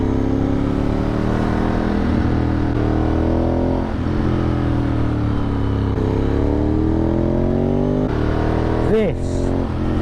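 A Ducati 996 sportbike carving through bends on a road-trip route, its engine roaring loud and close with a steady, wavering drone, a brief rev and gear change near the end, and the rider talking over it.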